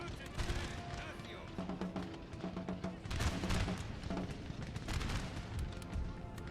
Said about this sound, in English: Well, that was a pretty nice volley off the cannon to start with.